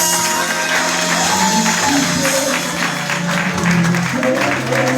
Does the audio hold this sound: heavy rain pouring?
no